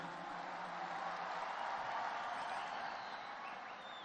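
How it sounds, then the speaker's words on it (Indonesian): Crowd applause at an outdoor Nasdem party rally, a thick, continuous roar of distant clapping held at an even level for about four seconds. "Kita beri tepuk tangan untuk beliau."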